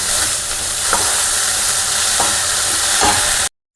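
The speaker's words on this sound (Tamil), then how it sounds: "நான் அடுப்பை கொஞ்சம் மீடியம் ஃப்ளேமில் வச்சு ஒரு 10 நிமிஷம் வதக்குறேன்" Mint and curry leaves sautéing in a pan over a medium flame give a steady, close sizzle with occasional stirring scrapes, then cut off abruptly at the end.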